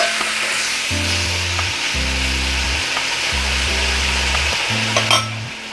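Tomatoes go into a pan of sautéed onions for a spicy okra curry, frying with a loud, continuous sizzle; a low droning hum switches on and off in blocks underneath, with a clatter near the end.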